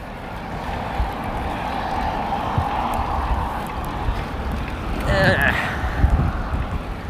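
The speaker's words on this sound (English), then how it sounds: "Wind's right at my face," Steady wind rushes across the microphone while riding a bicycle on a city street, a continuous low roar that swells slightly near the end.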